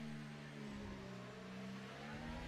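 Racing car engine in a Mexican Grand Prix racing video game, a steady, droning whine with layered harmonics that dips slightly as the throttle eases, continuous and fairly quiet with no speech.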